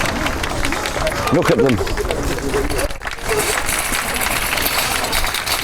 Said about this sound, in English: Here they shout, they're applauding.